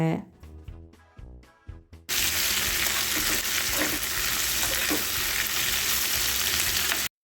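Pirandai stir-fried with tamarind and dried chilies sizzles loudly and steadily in a pan after a short lead-in of music, with scraping from stirring in the oil.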